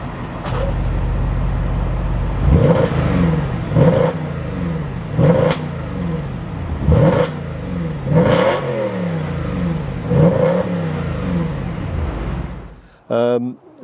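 An Audi RS5 V8 engine is revved in a run of sharp, loud blips about every second and a half over a steady idle, ending in a short sputter before shutting off.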